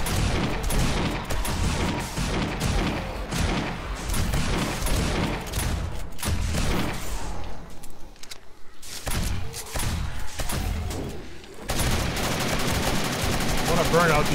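Sustained bursts of .45 ACP gunfire during a zombie horde night in the game 7 Days to Die, dense and loud with rapid repeated shots, a brief lull midway, and game noise mixed throughout.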